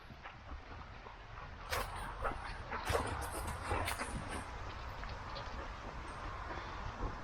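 Dogs whimpering and giving a few high yips at a moderate distance over outdoor background noise.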